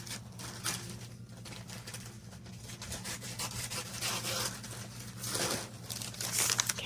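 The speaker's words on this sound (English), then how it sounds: "let me cut one back wide enough for that" Shipping paper is cut to width for a craft project, giving a continuous close-up stream of crinkling, rubbing and scraping paper noises with a few sharper rustles. Nobody speaks.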